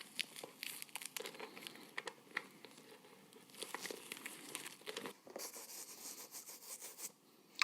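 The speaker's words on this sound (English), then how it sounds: "If you've got stray glitter you want to get rid of your sole, use a brush." A brush scrubs stray glitter off the sole of a glitter-covered DIY shoe, giving quiet, busy scratchy crinkling strokes in quick irregular bursts, close up and without talk.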